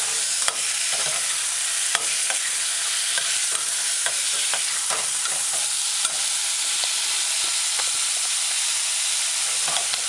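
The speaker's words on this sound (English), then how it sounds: "You gotta stir fry the tomato with the other ingredients" Chopped tomato with herbs and salt is stir-fried in a pan, a constant hissing sizzle layered with frequent quick clicks and scrapes of a cooking spoon, close and evenly paced for the whole stretch.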